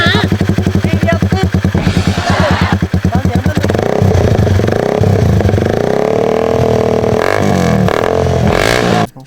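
A Honda Sonic motorcycle with a loud aftermarket exhaust revs hard up close, rapid throttle blips giving way to a sustained high roar that fades with some clatter at the end.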